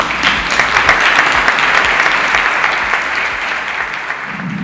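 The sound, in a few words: audience applause for Carolina Deck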